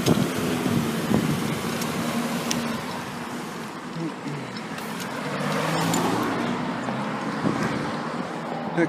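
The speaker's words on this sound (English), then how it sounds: "That car sort of got in my way." A car passes in busy evening traffic on a road through Burbank, Los Angeles, a broad swelling engine and tyre rush over steady roadway noise and wind buffeting the microphone.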